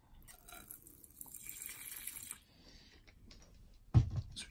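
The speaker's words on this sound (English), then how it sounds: "Fill the water bowl" Water trickles and splashes softly as a tarantula's water bowl is filled, with a faint pour early on and a brief louder splash near the end.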